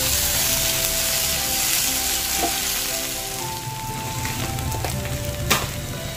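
Shrimp paste (terasi) sautéing in a pan, a constant loud crackling sizzle with a faint background hum and a sharp clink near the end.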